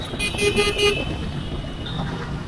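Car horns toot several times over a low rumble of engines in office-hour traffic near the Salt Lake Sector 5 metro station, followed by a steady hum of idling vehicles.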